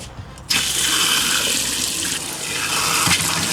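Water rushes suddenly and steadily through an RV's city water hookup, a loud continuous hissing flow close by after a brief quiet start, no voices.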